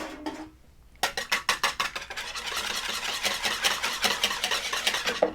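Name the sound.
whisking egg in a bowl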